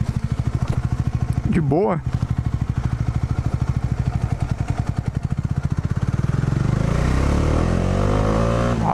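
A Bajaj Dominar 400 motorcycle engine runs under a rider's voice during a test ride while maneuvering, with steady throbbing idle and low-speed pulses, a brief rev, then rising acceleration toward the end; the rider speaks briefly.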